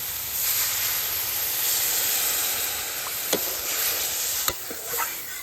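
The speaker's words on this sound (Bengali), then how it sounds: "এবার আমি অ্যাড করবো জল" Water poured onto fried spices in a pan for Bengali fish curry, a loud steady hiss of sizzling steam with a few sharp clinks of a utensil toward the end.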